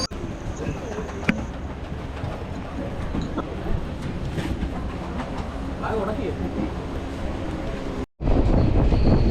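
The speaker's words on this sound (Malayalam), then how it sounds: "അങ്ങനെ ട്രെയിൻ മൂവ് ചെയ്തു തുടങ്ങി" A second-class passenger train pulls away between Kottarakkara and Kollam, with a loud continuous rumble of wheels and carriage noise heard from inside the compartment, ending in a short break.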